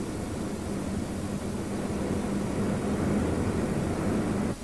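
Military jet aircraft at a Saudi air base where British Aerospace Hawks and American F-111 fighters are present: a steady, loud broadband engine roar with a low hum holds for the whole stretch and cuts off abruptly near the end.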